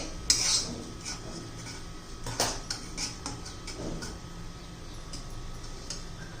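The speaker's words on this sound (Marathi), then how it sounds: "मंद गॅस असा खरपूस असा रवा भाजून घ्यायचा" Semolina roasting in a pan over a low flame, stirred with scattered ticking scrapes and light metallic clinks of a utensil against the pan, moderately close and without speech.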